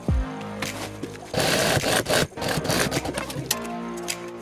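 Sewing machine stitching a zipper onto a travelling bag, giving a loud, steady mechanical run with bursts of stitching that start and stop over several seconds, close by and without talk.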